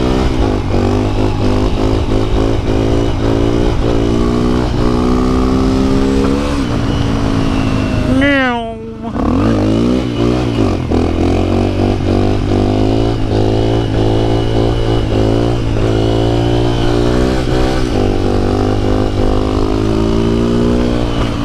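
Dual sport motorcycle engine revving while riding, loud and close, climbing and falling in pitch through gear changes with a brief dip midway and wind noise throughout.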